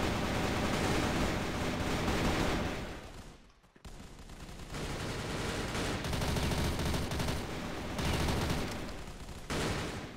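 Rapid 9A-91 rifle fire in the video game CrossFire: dense, continuous automatic bursts that sound loud and close, with one brief break midway before the firing resumes.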